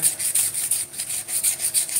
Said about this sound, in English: Just takes you longer to sand stuff out.